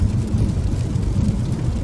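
Rain hits a Peugeot 2008 driving on a highway, a steady dense rumble of tyre and road noise with a continuous hiss of water, loud and unbroken throughout.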